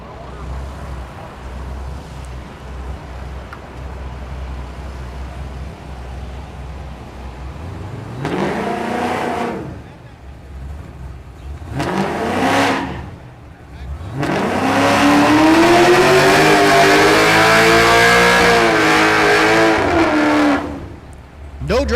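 A Pontiac GTO and a Trailblazer SS at a drag strip, Thunder Valley in Noble, Oklahoma: loud engines rev and rise in pitch through several bursts, then a long, roaring full-throttle pass over steady background rumble.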